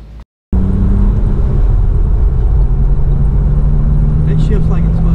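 A supercharged BMW M Roadster with a new clutch, throwout bearing and pilot bearing drives on a test run, its engine a loud, steady low drone heard from inside the car after a brief cut.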